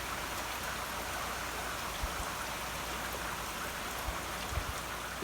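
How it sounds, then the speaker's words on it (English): Steady rain falling in Pisgah National Forest on a foggy morning, a constant soft hiss of drops with a few faint low thumps, no voices. "Yes, I know it's a foggy and rainy day, but it's quiet, and the rain is relaxing and soothing."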